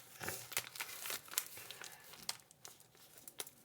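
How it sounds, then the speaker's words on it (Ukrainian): Adhesive tape and a plastic bag are handled up close, giving a quiet run of crinkles, rustles and short tearing pops at an uneven rhythm, with no talking. "Тепер я беру скотч і закриваю зверху."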